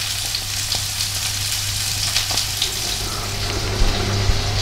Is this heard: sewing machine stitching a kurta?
no